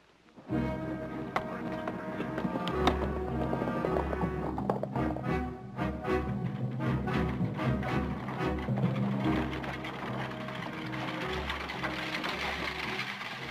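Horse hooves clip-clop steadily along in a classic Western setting, a close, regular beat that runs under loud, continuous orchestral music throughout.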